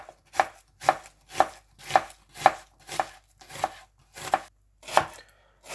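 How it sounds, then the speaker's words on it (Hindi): Onion chopped with a knife on a board for a chicken karahi, nine crisp evenly spaced chops about half a second apart, close and clear with no talk. "सबसे पहले हम प्याज काट लेंगे।"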